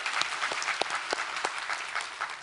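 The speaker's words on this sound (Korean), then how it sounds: "우리 하나님께 감사와 영광의 박수를 드리겠습니다" Congregational applause during a Korean church service, a moderately quiet, fairly steady patter of many hands clapping with a few sharper claps standing out, no voices over it.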